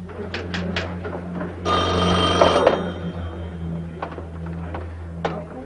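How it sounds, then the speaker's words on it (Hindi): A telephone bell rings indoors in a 1989 romantic drama, with short repeated ring bursts spaced apart, one longer ring in the middle, and a steady low hum underneath. "ओ, फोन था।"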